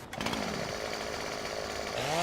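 Chainsaw cutting timber in Farming Simulator 17: a continuous, loud, buzzing motor drone held throughout, its pitch sliding upward near the end as the engine revs.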